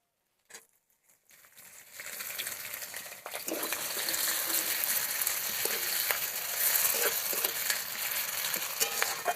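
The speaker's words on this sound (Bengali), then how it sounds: "পেঁয়াজ আমার ভালো করে ভাজা হয়ে গেছে" Chopped onions frying in a pan, a brief clatter as they go in, then a steady close sizzle and crackle with light stirring.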